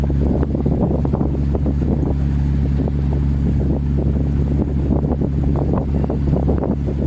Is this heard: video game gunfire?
no